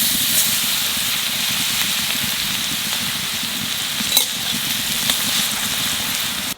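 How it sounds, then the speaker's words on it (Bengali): Garlic frying in a pan with bay leaves, dried chillies and cumin for a country chicken curry: a steady, close, bright hiss and sizzle throughout, with a couple of brief crackles and no talking. "রসুনটা একটু বাজিয়ে নিছি"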